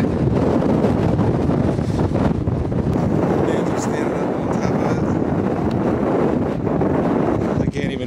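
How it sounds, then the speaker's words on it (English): Strong wind on open Kansas prairie buffets the microphone throughout, a loud, rough, continuous rumble with gusty surges. "excuse the wind noise"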